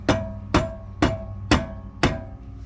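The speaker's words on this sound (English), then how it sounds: "I'm just going to tap this end with the rubber mallet to secure it upwards" A rubber mallet taps the end of an adjustable lower control arm on a supercharged Mustang, giving five evenly spaced, close, solid thuds about half a second apart.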